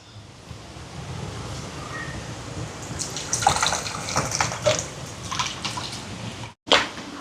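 Tamarind water splashes and trickles into a pot of Sri Lankan curry, a soft pouring and dripping sound close by, ending in a brief clatter.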